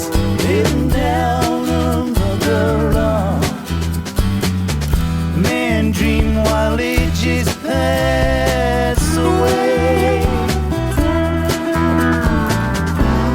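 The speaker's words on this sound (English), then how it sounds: "That's steel guitar, right? Slide on a steel guitar?" Full band music with a gliding slide steel guitar bending notes up and down over steady drums and bass, loud and continuous.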